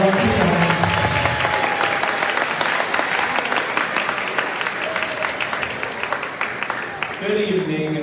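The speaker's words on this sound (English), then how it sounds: "let's give a round of applause to our music teacher, Mr. Pollock" Audience applause at a kindergarten concert for the music teacher, a steady dense wash of clapping lasting throughout, with some voices and a tonal sound at the edges.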